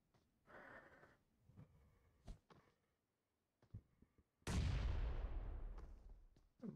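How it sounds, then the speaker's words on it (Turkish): A bombing-zone blast in the video game PUBG Mobile lands with a sudden loud boom midway and rumbles away for a couple of seconds. Sparse thuds and small noises come before it. "Serdar bomba atıyor."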